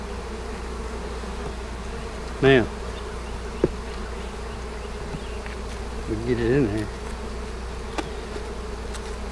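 Honey bees buzz in a steady drone during a hive inspection in a new bee yard, with someone speaking briefly over the constant hum.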